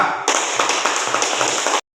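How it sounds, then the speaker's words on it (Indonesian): Students in a classroom clap for a group, a bright, steady burst of many hands clapping in an even rhythm, close and lively, stopping abruptly after under two seconds. "Tepuk tangan untuk kelompok 2"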